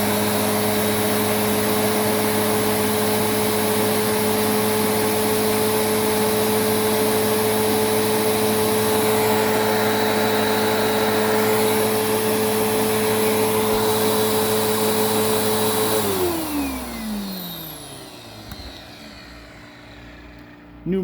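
Riccar Vibrance commercial premium vacuum cleaner with new motor bearings and brush roll bearings, running steadily at a loud, close, high whine for about sixteen seconds before switching off and winding down in pitch.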